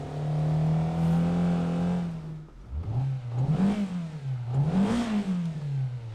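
A Mazda Miata engine in Assetto Corsa holds a steady drone, drops off sharply, then rises and falls through repeated rev swells and dips, loud and close with no talk.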